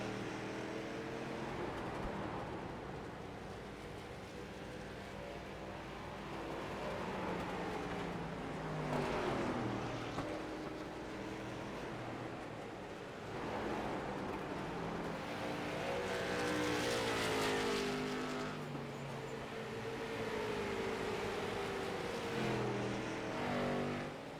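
Race cars in a street stock racing simulation game at USA International Speedway roar continuously, engines swelling and fading as they pass, with no talk.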